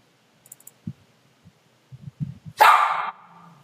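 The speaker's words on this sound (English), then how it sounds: "2 dogs." Two dogs bark, with a few soft low thuds and clicks leading up to one loud, sharp bark near the end that trails off quickly.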